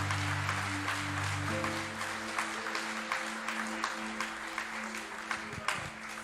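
A church congregation claps together in sustained, dense applause, with a steady sustained organ or keyboard chord ringing underneath.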